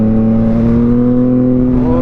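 A motorcycle fitted with a homemade quick shifter revs loudly and close at a bike meet, a strong steady engine drone with slightly rising pitch near the end.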